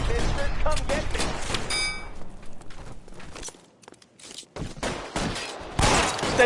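Rapid bursts of gunfire from an LA Noire shootout crackle loudly and densely across most of the stretch, dropping to a brief lull before more shots erupt near the end, with voices mixed in.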